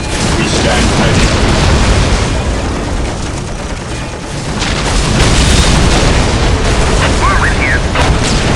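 Whirlwind artillery tanks in Warhammer 40k Dawn of War fire a dense, loud barrage of booming explosions that roar continuously, dipping briefly before swelling again.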